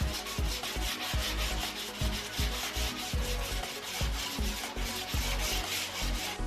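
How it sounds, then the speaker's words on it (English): Wooden rocking boards of a rocking chair being sanded by hand, steady rhythmic rubbing strokes with a gritty scratch, close and continuous with no talk. "You should also sand the rocking boards on the underside and edges extra well so that the surface is even."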